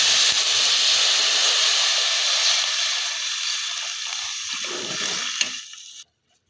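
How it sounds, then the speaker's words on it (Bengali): Hot water poured into a pot of frying khichuri sets off a loud, sustained sizzling hiss that slowly eases, then cuts off abruptly. "এখন আমি গরম পানি দিয়ে দিব"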